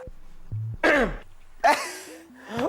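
A man coughs and clears his throat in a few short, rough bursts, close and loud, with brief pauses between them.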